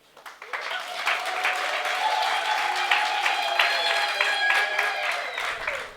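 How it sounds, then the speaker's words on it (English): A crowd bursts into sustained applause, dense clapping swelling quickly and holding steady before fading at the end. "you also need your own round of applause"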